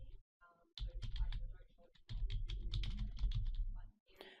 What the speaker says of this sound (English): we need to click in the criteria cell for department and type administration